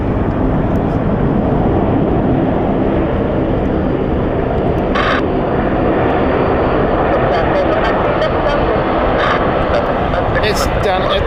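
Luxair airliner in special livery at London City Airport, its engines giving a steady broad roar throughout, with voices talking over it and brief higher noises cutting in.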